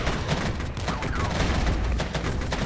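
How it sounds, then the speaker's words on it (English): Mortar fire in the video game Regiments, a dense, loud barrage of booming blasts and crackling shots packed into a couple of seconds with no clear break. "Mortar fire is coming in."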